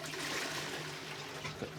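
A clogged toilet being flushed, a steady rushing water sound that fills the whole short moment, fairly close and without voices.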